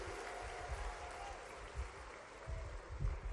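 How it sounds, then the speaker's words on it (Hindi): A rally crowd in Khargone claps steadily through the whole stretch, a dense wash of applause that swells in short bursts near the end. "ताली वाली बजा के बताओ"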